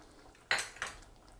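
Two sharp metallic clinks of a spoon against a cooking pot, close and fairly quiet, as curd is quickly stirred into a simmering restaurant-style vegetable kurma.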